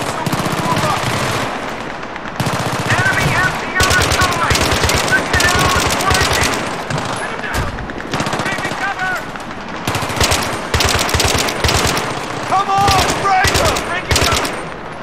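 Rapid machine gun bursts in Battlefield 3 rattle out in repeated loud volleys with short gaps between them, mixed with other gunfire and game sounds.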